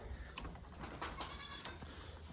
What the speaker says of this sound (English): thus far, guys, I'm feeding 6 goats in here